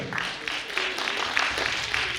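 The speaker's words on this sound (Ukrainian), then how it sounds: "Агнеса Склярова, ваші оплески" Audience applause after a singer's performance at a Kyiv art competition, a steady clatter of many clapping hands that carries on for the whole moment.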